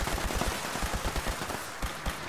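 Rapid bursts of gunfire from an explosive laser weapon in Fallout 76, a quick run of sharp repeated shots spaced unevenly across the moment, moderately loud with no talk.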